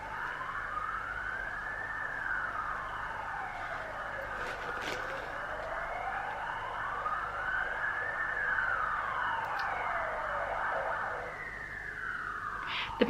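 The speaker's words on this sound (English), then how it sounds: "you will constantly get sirens" Emergency sirens from a street between a hospital and a police station wail up and down in long slow sweeps, fairly faint and distant, steady for several cycles with a faint thump at the end.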